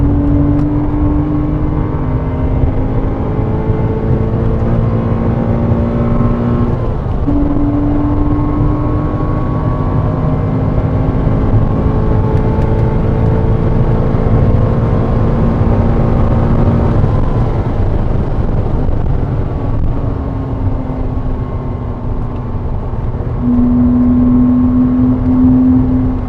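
A Porsche Cayman 987 driven flat out on track at Goodwood, racing a McLaren, gives a steady loud engine drone with pitch sweeps as revs climb and shift, heard close up with heavy rumble throughout.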